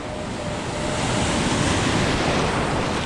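Strong ocean waves break and surge at a beach where metal detecting is under way, a steady loud roar of surf with wind buffeting the microphone and no voices.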